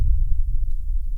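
A synthesized low boom for movie trailers rumbles deep and heavy, a sustained loud sub-bass throb with one faint click partway through.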